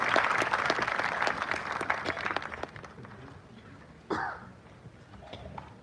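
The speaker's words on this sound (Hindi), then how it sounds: "अपनी तालियां बजाते रहें" Audience applause at a teachers' gathering, a busy patter of clapping that thins and fades after about three seconds, followed by a short sharp burst of noise and quiet room sound.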